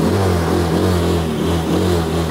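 Motorbike engine started and revved, a steady loud close-up drone with a low rumbling pulse that rises slightly in pitch, filling the whole short stretch with no talk.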